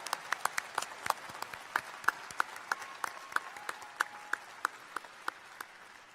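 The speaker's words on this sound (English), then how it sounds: "Another round of applause for the doctoral recipients." A sparse scattering of handclaps from a commencement audience honouring doctoral graduates, individual claps ringing out in a slow, fairly even rhythm with a faint room reverberation, moderately quiet.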